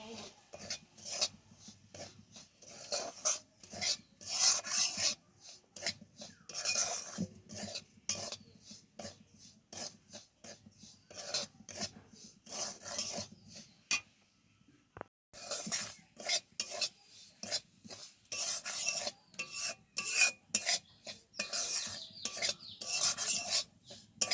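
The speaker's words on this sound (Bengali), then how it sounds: "এর মধ্যে এবার সুজিটা দিয়ে একটু হালকা করে নেড়ে নেব।" Semolina stirred and lightly fried in a pan, a spoon scraping and rasping against the metal in quick, repeated strokes, close and clear, with a brief pause midway.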